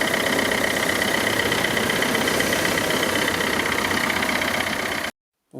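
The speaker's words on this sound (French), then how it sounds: "ça démarre nickel du premier coup" A Dacia Sandero 1.5 dCi diesel, a 2008 model fitted with a new starter, idles steadily and loudly up close for about five seconds, then cuts to brief silence before a faint return of noise.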